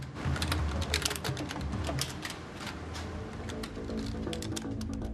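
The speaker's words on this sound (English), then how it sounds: "they hammer their keyboards very fast" Rapid typing on computer keyboards by hackers. It is a dense, continuous clatter of key strikes, loud and close, with busy background noise underneath.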